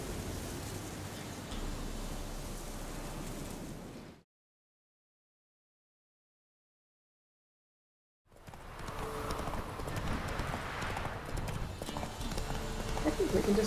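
Hooves of Roach, a horse in The Witcher 3 video game, clip-clop at a gallop in a steady run, cut by a silent gap of about four seconds before the hoofbeats return, with a player voice talking over them.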